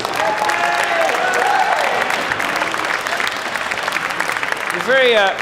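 Audience applause at a university talk in Delaware, a steady broadband wash of clapping filling the whole stretch, with voices and cheers rising through it and a brief shout near the end.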